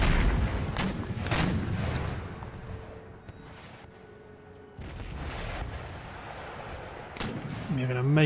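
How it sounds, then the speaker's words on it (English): Massed musket volleys crackle and boom in Empire: Total War, a string of loud gunfire bursts with dense rumbling reports across the battle, briefly dropping quieter before another heavy volley, with a voice starting at the end. "keep loading and firing"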